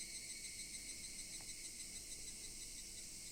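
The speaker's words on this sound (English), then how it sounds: "Only the cry of cicadas remained, annoyingly loud" Cicadas drone as a continuous high-pitched buzz that holds steady throughout, heard quiet and distant against a faint background hum.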